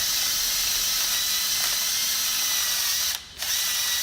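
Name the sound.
removing rust from a Toyota RAV4 brake caliper bracket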